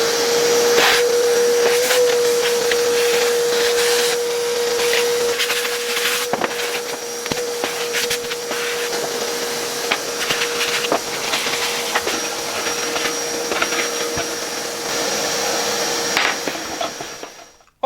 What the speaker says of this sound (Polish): Pozwólcie, że ja tutaj odrobinę odkurzę